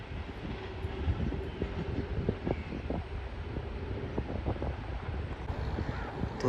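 The Pak Business Express train passes Karsaz railway station as a steady, rumbling roar mixed with wind buffeting, dotted with faint clattering knocks throughout.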